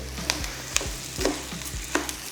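A spoon stirring mushroom risotto in a pan as chicken stock goes in, soft scraping strokes repeating every half second or so over a low, steady simmer, close and fairly quiet, with no speech.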